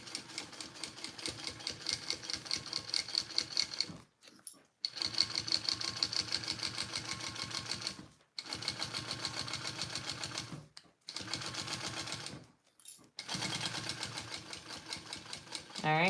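A sewing machine stitches a seam on a Karvi mini backpack, running fast and steady in several separate bursts of rhythmic chatter broken by short silent pauses.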